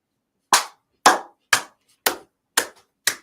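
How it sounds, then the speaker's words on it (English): Six slow, deliberate claps ring out one at a time, evenly spaced about half a second apart, crisp and close with dead silence between them. "You can clap a bit."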